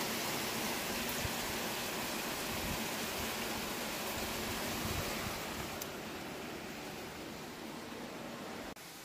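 Steady rain falls on an early morning in rural St. Ann Parish, Jamaica, a dense, even hiss of droplets with a breezy rush, continuous and fairly close throughout, with no one speaking.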